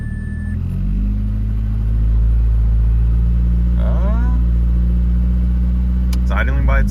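A car engine idling on its own after a starter repair, a loud, steady low rumble up close with a brief rev near the start, and a voice speaking over it toward the end.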